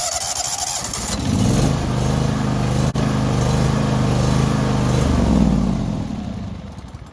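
A John Deere garden tractor engine cranks briefly, then catches and runs with a steady close throbbing idle that settles and fades slightly near the end.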